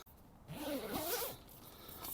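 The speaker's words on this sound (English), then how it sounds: "Two-way zip for ventilating and cooking as well" A two-way zipper on the door of a Simond Makalu T2 four-season mountain tent pulled in one smooth, close rasping stroke of about a second.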